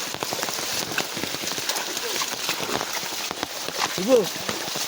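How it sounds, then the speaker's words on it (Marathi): Steady first-monsoon rain pattering on surfaces at night by a stream, with dense scattered drops close by and a brief voice near the end. "सुरू झाला सुरू झाला पाऊस लागता"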